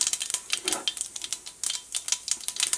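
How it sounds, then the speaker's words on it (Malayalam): Mustard seeds crackle and pop in hot oil in a pan, sharp irregular snaps firing in quick clusters over a soft sizzle, close and fairly loud, with no talking. "കടുക് പൊട്ടി തുടങ്ങിയിട്ടുണ്ട്"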